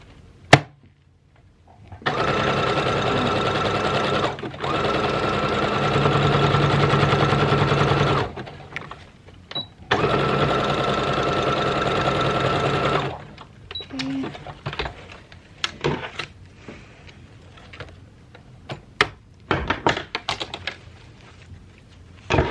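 A sewing machine stitches 7/8 inch LED ribbon onto a light-up tutu in two long, steady runs of close, even mechanical whirring. Each run lasts several seconds, and scattered handling clicks and a speaking voice fill the gaps between them.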